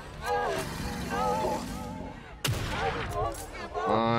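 Gunfire in The Evil Within 2 cracks out in sharp, loud individual shots amid game action, with a person talking over and between the reports.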